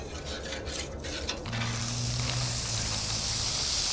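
Onions and mushrooms for a Philly cheesesteak drop into hot oil. A few scraping stirs give way to a steady, close sizzle that keeps building with a low hum underneath and no voices.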